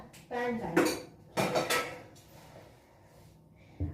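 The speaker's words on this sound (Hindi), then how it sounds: "बर्तन, ढेर सारे बर्तन," Dishes and pots clank together in a few loud bursts, with quieter rattling between them and a final knock at the end.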